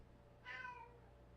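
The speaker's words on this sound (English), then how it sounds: "These are the office cats." A single short meow from an office cat, fairly close and quiet, standing alone over a faint room hum.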